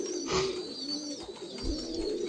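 Pigeons coo in cages on a farm, with soft low-pitched cooing and a few faint chirps close by.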